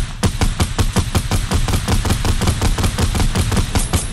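Rapid automatic gunfire in the battle royale game Fortnite, loud, close, sharp shots in a steady fast rhythm that continues without pause throughout.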